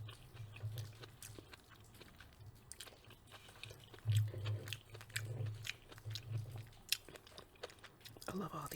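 Garlic cauliflower is chewed close to the mic, with soft crunches and wet mastication recurring through the stretch, quiet and intimate, and faint low murmuring in the background.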